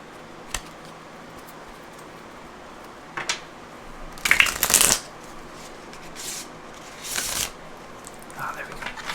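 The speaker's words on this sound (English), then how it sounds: "I'm going to shuffle these cards a few times." Close riffles and snaps of tarot cards being shuffled come in several short bursts, the loudest in the middle, separated by quiet pauses in a still room.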